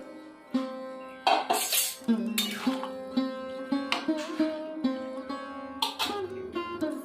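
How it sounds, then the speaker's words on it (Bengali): Palta leaves, spices and fried eggplant stirred in a pan on the stove: a spoon scrapes and clinks against the metal in irregular strokes, with a soft background sizzle and no talking. "মশলার সঙ্গে পলতা শাকটা ভালো করে কষে নেব।"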